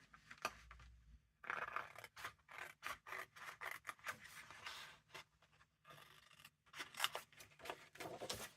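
Scissors snip through paper while a word is cut out, making a quiet, close series of crisp cuts and rustles in short irregular bursts with brief pauses between them.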